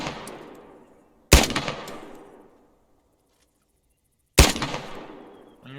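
Machine gun bursts in a military video game, two sharp loud volleys separated by silence, each decaying into a long echoing tail, close and without speech.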